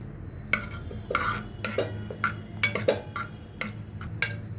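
Dal with salt, turmeric and chilli stirred in a pot for sambar: a spoon scrapes and clinks against the metal in repeated uneven strokes over a low background hum, with no one talking.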